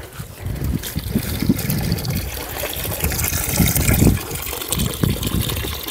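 Water gushing and splashing from a garden hose in a vegetable garden, a continuous close rushing flow with uneven surges and trickling texture, no talk over it.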